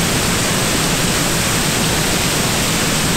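Waterfall, a loud, dense, unbroken rush of falling water filling the whole clip evenly like broadband hiss, close and steady with no pauses.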